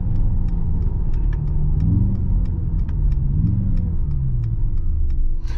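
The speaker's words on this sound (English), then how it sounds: "We have a nice V8 rumble" A deep, steady V8 engine rumble from an 843 hp Mercedes-AMG GT63S E-Performance on the Autobahn fills the clip, loud and close, with a low throbbing burble and a slight rise in revs partway through.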